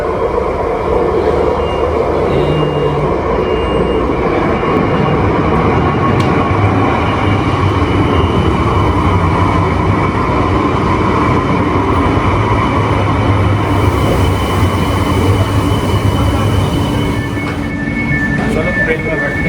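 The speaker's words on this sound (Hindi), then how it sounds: "ये हमारी ट्रेन आ रही है।" A train pulls into a station platform in Mauritius with a steady, loud rumble and rail noise lasting throughout, while people talk over it nearby.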